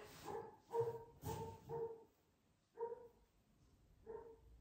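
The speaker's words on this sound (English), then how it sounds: "Neighbor's dog." A neighbour's dog barks in short bursts: a quick run of four or five barks, then a pause, then two more single barks. Slightly distant and moderately loud, with no talking.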